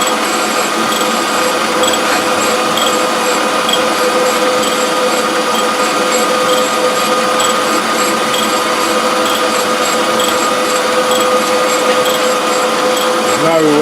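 A surface grinder under repair runs steadily, a continuous dense mechanical whine with a fixed pitched tone holding at even loudness throughout, no pauses.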